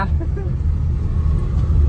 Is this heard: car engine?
yes